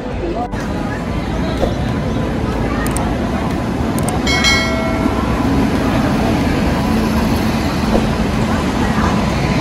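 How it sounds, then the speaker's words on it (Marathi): Heavy rumble of a train arriving at a crowded platform, a continuous low roar with brief metallic squeals, under a busy crowd murmur. "ट्रेन तर आमची आलेली आहे, पण खूप गर्दी आहे"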